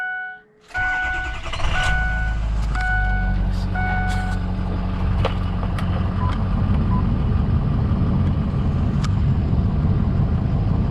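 A 2006 Ford F350 diesel 4x4 Lariat truck cranks briefly and fires up, then settles into a steady, loud diesel idle with a deep rumble close by, along with a few chimes and beeps from the cab.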